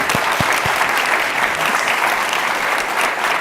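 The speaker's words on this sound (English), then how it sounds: "another round of applause for the time today" An audience at a health policy conference breaks into steady, full applause that fills the room and holds at an even level throughout.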